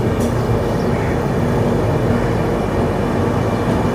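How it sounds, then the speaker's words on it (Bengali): A Puri–Sealdah Duronto train is heard from the first-class cabin as a steady, loud rumble of rolling wheels and carriage noise, with no distinct horn or voices. "ট্রেন আসছে"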